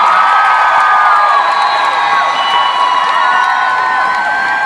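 A concert crowd at the Fox Theatre in Oakland cheers and whoops for the drummer during band introductions, a loud sustained roar of shouts and high screams filling the hall without a break.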